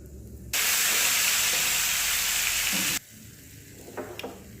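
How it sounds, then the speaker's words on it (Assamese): Bay leaf, cardamom, cinnamon and cloves hit hot oil with a sudden loud sizzle that holds steady for about two and a half seconds, then cuts out to quiet with a few faint clinks. "তেল গৰম হ'ল, ইয়াত এতিয়া তেজপাত, ইলাচি, ডালচেনি আৰু লং কেইটা দি দিম।"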